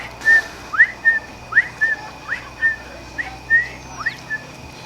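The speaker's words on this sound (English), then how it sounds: "we have what we call his signature whistle, which is like his own personal whistle on signal" A dolphin named Flagler gives his signature whistle: a series of about a dozen short, bright upward-sweeping whistles in quick irregular succession, clear and fairly close over a low steady hum.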